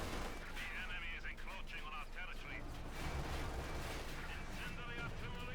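Continuous roaring din of battle as a KV-8 flamethrower tank burns through infantry in the Company of Heroes 2 strategy game, dense rumbling fire and crackling layered with distant gunfire and explosions, with a voice talking over it.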